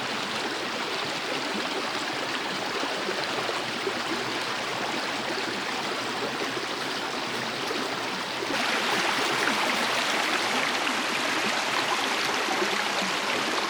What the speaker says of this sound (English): That's an actual real creek.